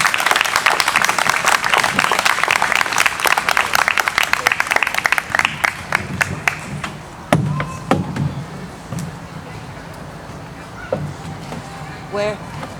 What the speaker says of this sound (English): Please, s'il vous plaît, applaudissons pour Madame Gawendoas.